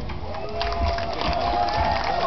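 Crowd at a youth summer games awards ceremony in Zenta, with a continuous roar of applause and cheering filling the space and voices blending into the clapping.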